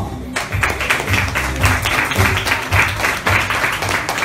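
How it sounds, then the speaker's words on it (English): Applause from the audience at a Lenovo K8 Note and K8 Plus smartphone launch event, a loud, sustained wash of clapping over a low musical bed, steady throughout. "let's give a round of applause for Mr."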